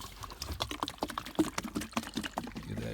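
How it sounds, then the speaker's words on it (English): Water flushes hard through an HVAC condensate drain in irregular gurgling spurts and splashes, fairly faint and close, with no voices. "Give that drain a good flush. Water usually doesn't come through this hard."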